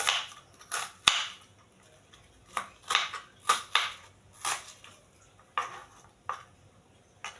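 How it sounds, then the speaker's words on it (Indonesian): Knife chopping onions on a cutting board while cooking, a series of sharp irregular knocks and taps at close range, spaced unevenly with quiet gaps between cuts. "Sekarang kita potong-potong untuk bawang bombaynya"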